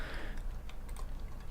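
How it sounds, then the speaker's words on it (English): Brief burst of typing on a computer keyboard, a few soft quick key clicks, faint and close, with no voices. "if we type a name which doesn't exist"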